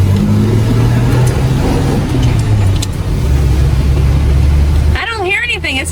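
A 1961 Ford engine runs strong after a timing adjustment, a steady loud rumble throughout with voices talking over it, and a rising-falling whine near the end.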